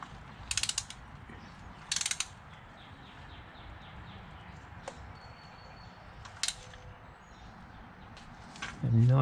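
A ratchet torque wrench with a swivel works on an intake manifold, giving short bursts of close, sharp ratcheting clicks in a few separate groups, with scattered mechanical taps, a faint whine and a final clunk.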